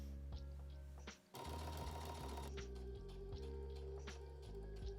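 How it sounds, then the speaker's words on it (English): Sewing machine edge stitching a pocket bag onto the front piece of wide leg trousers, a steady close mechanical whir with a faint rhythmic ticking, briefly pausing and then running again. "Press the pocket bag in place and edge stitch it to the front pant at the top edge and side"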